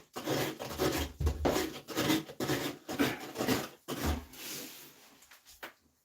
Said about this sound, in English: the shredded edge on this knife is perfect for cutting back the drywall